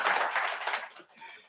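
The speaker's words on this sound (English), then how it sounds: "Let me give him a clap." Audience at a 2020 county treatment court graduation gives a brief burst of clapping that fades within a second and a half.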